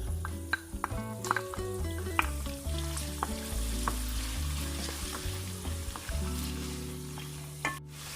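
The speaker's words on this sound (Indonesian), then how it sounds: "kita goreng dulu bawang putih dan bawang merah iris hingga wangi dan agak kering" Steady sizzling of sliced garlic and shallots frying in a pan, with occasional clinks and stirring sounds, no talking.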